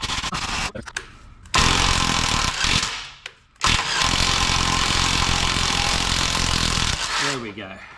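An angle grinder cutting rusted bolts off a Land Cruiser 80 Series, loud harsh grinding in close bursts with a short pause and restart, then spinning down at the end.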